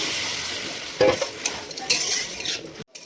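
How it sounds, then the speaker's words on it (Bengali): Rice flour slurry stirred into a bubbling fig curry with prawns and crab, a close wet sizzle and spoon scraping with a few louder stirring strokes, no talk. "মিলিয়ে দেব ডুমুরের সঙ্গে গোল চাউলের গুঁড়োর ঘোল"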